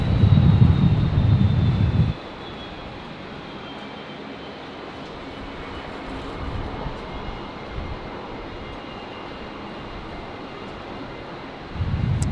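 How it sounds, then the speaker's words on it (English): A Virgin jet departing Brisbane's runway 19 left for Nadi gives a loud low engine roar at the start. The roar drops to a distant steady rumble with wind noise, then rises again near the end. "Virgin 175 here, departing 19 left off to Nadi."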